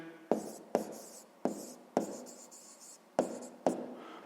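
Pen strokes by hand on paper during a sixth-grade maths exercise, heard as about eight quick scratchy bursts in an uneven rhythm, close and clear, with short quiet gaps between strokes.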